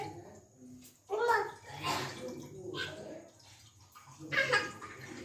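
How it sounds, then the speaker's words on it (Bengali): Hands splash and wash in water in a home kitchen while pumpkin payesh is being cooked. The water is faint and intermittent, mostly buried under continuous nearby talking, including a voice. "জলে ধুচ্ছি।"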